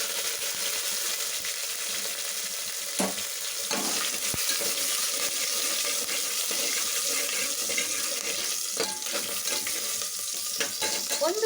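Curry leaves and Byadgi chillies fry in oil for wedding-style sambar, a continuous bright crackling hiss punctuated by occasional sharp pops and spatula taps.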